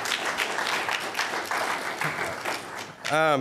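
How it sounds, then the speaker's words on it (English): An audience applauds councilmen at a community land trust gathering, steady dense clapping filling the room for about three seconds before a voice cuts in at the very end. "But if we give them all a round of applause for being here."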